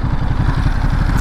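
A 2023 Ducati Monster twin-cylinder engine idles close and loud, a steady low throbbing pulse with a lumpy uneven beat and no voices.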